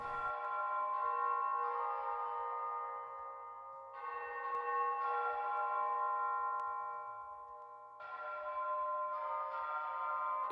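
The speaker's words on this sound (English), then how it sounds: "Except for those goddamn clanging bells." Clanging bells in the video game Dyschronia ring out in three loud, sustained swells with harmonic overtones, each struck anew about every four seconds over a quiet, sparse backdrop.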